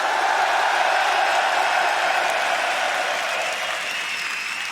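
A large arena crowd in Madrid applauds and cheers the Summer Split champions after the EU LCS League of Legends grand final, a dense, steady wash of clapping and cheering that holds loud throughout.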